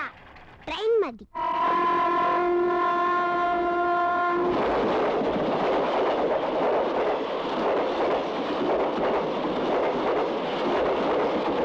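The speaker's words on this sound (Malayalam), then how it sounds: "നിൽക്കാത്ത ട്രെയിൻ" A cartoon train passes with a loud steady horn blast and then a continuous rushing rumble, preceded by a brief whistling sweep, all fairly close and with no talk over it.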